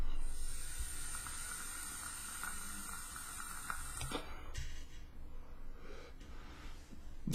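A vaper draws tobacco e-liquid through an Orchid tank on a 0.5 ohm coil, giving a steady close hiss that runs for several seconds and then shifts to a softer, breathier exhale.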